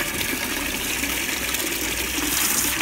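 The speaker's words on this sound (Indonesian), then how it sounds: "Ini dua keran ini alirannya masih deras, kalian bisa lihat tuh dari percikan airnya." Water gushes hard from two opened faucets fed by a Sanyo PH137AC water pump, a loud, steady rush with splashing that continues without pause.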